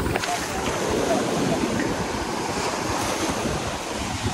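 Ocean surf washing onto a beach in the Exumas, Bahamas, a steady broadband roar of waves with gusting wind buffeting the microphone throughout, fairly loud and continuous with no talk.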